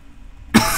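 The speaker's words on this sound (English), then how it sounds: "No, I can't stop coughing." A person coughs once, loud and close. The cough bursts out suddenly after a stretch of near silence and holds noisily to the end.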